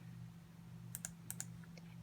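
A few quick, faint computer mouse clicks come in two close pairs and then a softer single click, over a steady low electrical hum with no talking.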